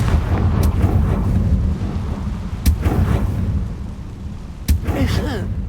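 The Confringo explosion spell in the video game Hogwarts Legacy goes off as sharp booms over a dense rumbling game backdrop, with a strong hit near the middle and another toward the end.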